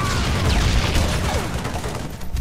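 Dense, loud gunfire and explosive blasts from a Halo 3 match featuring shotguns fill the whole stretch as a continuous wash of impacts, with no speech.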